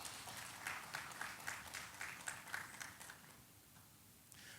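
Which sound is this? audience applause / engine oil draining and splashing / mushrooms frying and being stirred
audience applause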